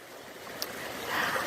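A backyard waterfall splashes with a continuous rushing, trickling wash of water close by, growing slightly louder toward the end, with no voices.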